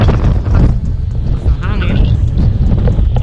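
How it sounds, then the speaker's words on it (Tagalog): Strong wind gusting steadily across the microphone beside a concrete barangay road on open land near Tagaytay, a continuous low roar under a voice. "Napakahangin lang po."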